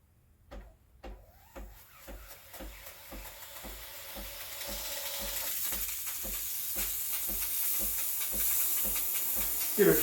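A Breville Barista Express BES860 espresso machine warms up, its pump pulsing in a steady rapid rhythm while a steam hiss swells louder and fills the background, close and without talk.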